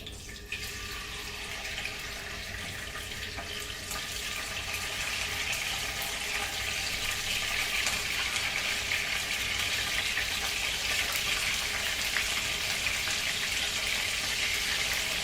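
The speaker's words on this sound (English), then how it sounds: "So my oil is hot, and I will fry this mackerel." Mackerel frying in hot oil for a Goan fish dish, giving a steady, dense crackling sizzle that builds slightly and holds constant and close throughout, with no talking.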